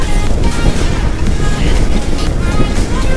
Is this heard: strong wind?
yes